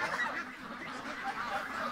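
Buff goose honking, a steady run of nasal calls close by with some mixed fowl chatter in the background and no talk.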